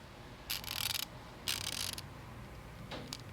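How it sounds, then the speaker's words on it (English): A 90-tooth ratchet wrench spins in three quick bursts of fine, rapid clicking, close and crisp, separated by brief quiet gaps. "they designed this ratchet from the ground up"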